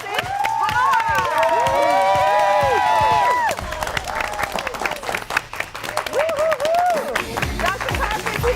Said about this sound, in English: Everyone, All right. a round of applause for Dr. Jason Karp.